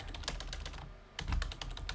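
Quick keystrokes on a computer keyboard, a dense run of light clicks with a short pause in the middle, then more rapid tapping close to the mic.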